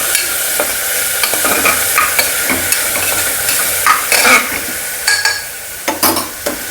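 Slit green chillies dropped into a hot pan for a white kurma, sizzling steadily while a spoon stirs and scrapes in short bursts, close and fairly loud, with no talk.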